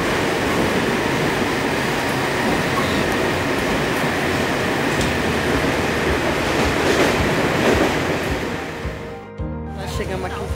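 Train noise at a São Paulo metro and rail station: a steady, loud rumble of rolling rail cars fills the platform, fading and cutting off near the end, with crowd chatter underneath.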